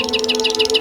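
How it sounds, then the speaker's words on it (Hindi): Birds sing in a rhythmic series of repeated bright chirps, steady and fairly loud, over a sustained tonal hum in an animated Hindi fairy tale. "और वो चिड़ियों को गाना गाते हुए भी सुन सकती थी।"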